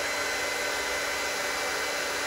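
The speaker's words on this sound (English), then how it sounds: "if you have a hair dryer and a ping pong ball, which I have right here" A hair dryer blows a steady, loud airflow hiss with no pauses, held up beside a ping pong ball for a Bernoulli principle demonstration, with no voices over it.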